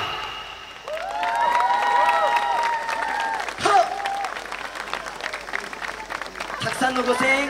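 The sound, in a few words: audience cheering and applauding a yosakoi dance team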